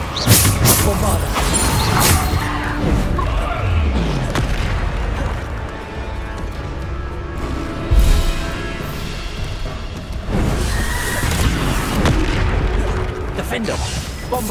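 Bombarda blasting spells in Hogwarts Legacy go off as repeated booming explosions with heavy rumbling bursts. Loud, dense combat noise fills the space between the blasts.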